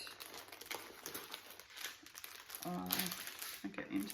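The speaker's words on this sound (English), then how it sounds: "It's just going to be crinkly, sorry." Plastic packaging around cross-stitch patterns crinkles close by in soft, uneven rustles, with a voice briefly heard over the crinkling toward the end.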